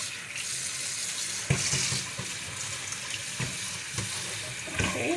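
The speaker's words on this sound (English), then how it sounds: "going to rinse it under some water." Tap water runs steadily over a corned beef brisket being rinsed in a drainer, a continuous splashing hiss broken by a few sharper knocks and handling clatters.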